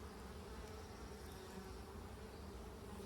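Honey bees buzzing around an open hive frame during queen rearing in poor weather, a faint, steady, dense hum of many insects with no talk.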